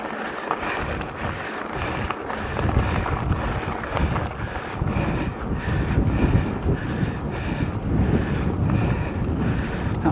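Steady outdoor wind buffets and rushes across the microphone in a constant, fairly loud roar for the whole stretch, with no voices or other distinct sounds.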